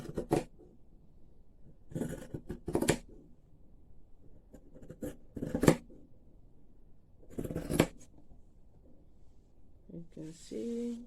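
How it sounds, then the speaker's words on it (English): Scissors cut through microfibre towel fabric in several bursts of crunchy, rasping snips separated by quiet pauses, close to the listener; a voice speaks briefly near the end. "Just cutting the fabric now."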